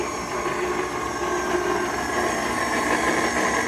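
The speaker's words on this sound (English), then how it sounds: "We're going to put our whisk on, and we're just going to mix that all together." Steady electric stand mixer whirring with a whisk attachment as wheat flour and oat flour are blended, a continuous close hum with a strong tonal whine and no pauses.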